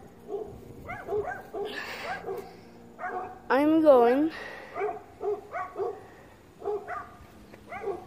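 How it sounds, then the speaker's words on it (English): Dogs in a park bark and yip in short repeated bursts, with one rising, wavering howl-like cry in the middle, heard moderately close while people talk over them. "there's dogs over there."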